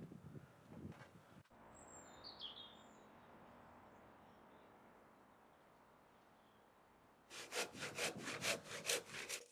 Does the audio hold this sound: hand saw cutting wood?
yes